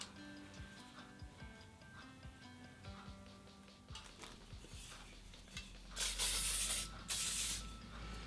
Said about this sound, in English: add some texturizing spray to just kind of make my hair kind of have a little bit more volume